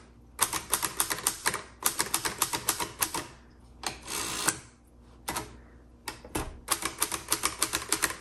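A 1954 Hermes Rocket portable travel typewriter is typed on up close: quick runs of crisp, sharp key strikes in bursts, broken by short pauses and a longer mechanical rasp midway, like the carriage moving.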